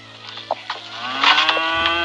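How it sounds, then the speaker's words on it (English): A cow moos in a long, harmonic bellow that swells over about two seconds, with a low steady hum and a few scattered knocks beneath it. "They even gave him a cow."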